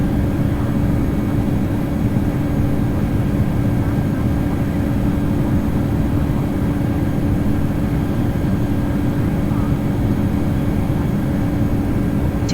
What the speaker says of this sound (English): I heard the throttle catch and the power come back earlier